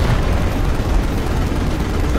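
Explosion in Final Fantasy XV's Episode Prompto shooter mode: a dense, loud, continuous rumbling blast with crackling debris, filling the whole moment without any talk.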